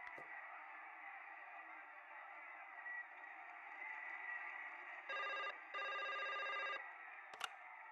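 A telephone rings in the video game Broken Sword 5, a steady electronic tone bed broken by two bright bursts of ringing near the end, followed by a short click, with no voices.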